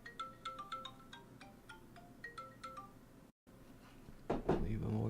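A phone ringtone for an incoming call plays as a series of short bright melodic beeps in a repeating pattern, followed after a brief gap by some handling noise and a voice.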